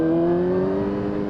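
A Yamaha YZF R6 motorcycle engine with a low-rev stuttering fault idles with a steady, slightly uneven hum that drifts a little in pitch, loud and close.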